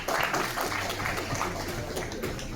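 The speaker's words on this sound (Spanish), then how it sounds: "Fuertes aplausos, qué bonito." Strong applause from a crowd at a gathering of Aymara communities in Puno, Peru: dense, steady clapping that fills the whole short stretch, with voices murmuring underneath.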